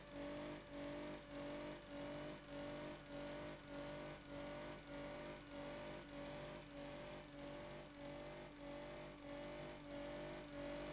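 A Lincoln Town Car engine runs on in the BeamNG Drive driving game during durability testing, giving off a steady droning hum with a regular pulsing throb that repeats evenly, close and unbroken, with no talk over it.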